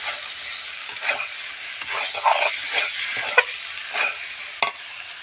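Mutton with ground spice paste being stir-fried (kosha) in a kadai over a wood-fired clay stove, a steady sizzle broken by repeated scraping strokes of a spatula against the pan, close and moderately loud.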